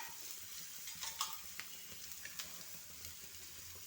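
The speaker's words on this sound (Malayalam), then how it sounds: "സവാള ഇട്ട് വഴറ്റിയെടുത്ത് അതിലേക്ക് തന്നെ ക്യാരറ്റ് ഇട്ട്," Onion and carrot sauté in a hot pan over a raised flame, a faint steady sizzle with soft scraping stirs and small clicks of the spoon, close by and with no talk.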